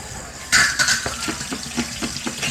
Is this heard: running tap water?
yes